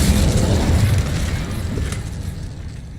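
The Incendio fire spell is cast in Hogwarts Legacy, giving a dense, rumbling whoosh of flame that starts strong and gradually trails off over a few seconds.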